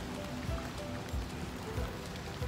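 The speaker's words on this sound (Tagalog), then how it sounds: "Lakas ng ulan." Heavy rain pours down steadily and close by, a dense wash with scattered louder drops landing on plastic sheeting, continuous throughout with no one speaking.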